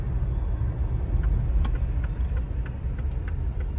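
A Mercedes W124 300E with its M103 straight-six, fitted with new fuel injectors, on a road test drive: a steady, loud low engine drone from inside the car, with faint ticking over it.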